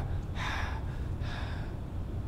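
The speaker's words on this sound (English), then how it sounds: "I'm just breathing." A person takes two loud, breathy inhalations through the mouth, each about a third of a second long, close to the microphone over a low steady hum, with no talking.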